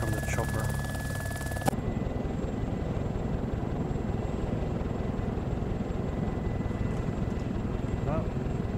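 A helicopter in the video game ArmA 2: Operation Arrowhead drones steadily with a dense, continuous rotor and engine rumble that holds loud and unbroken throughout, with brief voices over it near the start.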